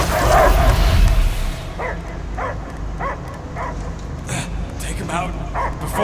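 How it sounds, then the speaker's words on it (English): A dog barks in the video game Guardians of the Galaxy, a series of short, evenly spaced yips and barks heard after loud game sound and voices fade, with speech continuing around them. "I hear only barking."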